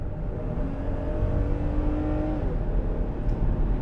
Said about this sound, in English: Getting up to highway speed is no problem for this power plant.